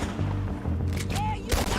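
Gunfire in Red Dead Redemption 2 during a shootout in the town of Rhodes: a quick burst of shots over a steady low game rumble and music, lasting about two seconds.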